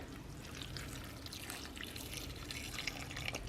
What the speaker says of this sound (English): We'll put the juice back in here so it doesn't get dry